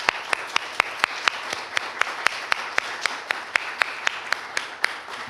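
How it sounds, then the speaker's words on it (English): Audience at a mayor's city budget presentation applauds city directors and commissioners, a crowd of clapping under one loud nearby clapper whose sharp, evenly paced claps punctuate the steady patter. "I want to give you a round of applause"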